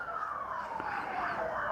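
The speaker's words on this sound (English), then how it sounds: "I think we have an ambulance going past for something." A passing ambulance siren wails in a steady, slowly falling tone at moderate distance against a constant background hum, with no talking.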